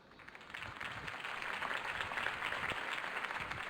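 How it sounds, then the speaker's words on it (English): Crowd applause following a campaign speech in Batman: The Telltale Series, a faint, steady wash of many hands clapping at a distance that holds evenly throughout. "could have heard that applause"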